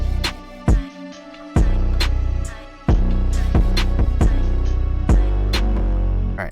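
A dark trap beat interlude layers a percussion loop, snare, booming 808, kick and a bell melody, loud and punchy, with a thinner passage before the full beat comes back hard.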